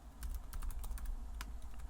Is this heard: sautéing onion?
no